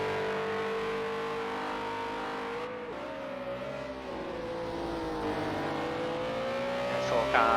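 Race cars in the video game Project CARS lap the Le Mans Bugatti Circuit during an R.S 01 Trophy qualifying session, with a steady high engine whine that rises and falls through gear changes, and a commentator talks over it.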